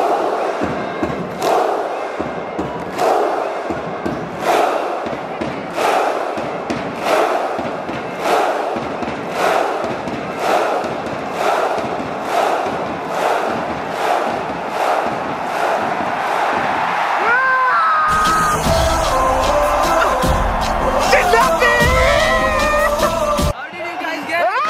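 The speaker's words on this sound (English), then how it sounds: "It's going to be an insane Viking clap." Kerala Blasters supporters pack a football stadium for a Viking clap, loud unison claps and shouts striking at a steady pace that gradually quickens before the crowd breaks into a roaring cheer.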